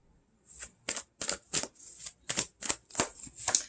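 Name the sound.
shuffling tarot cards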